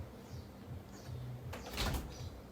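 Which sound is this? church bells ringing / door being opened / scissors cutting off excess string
door being opened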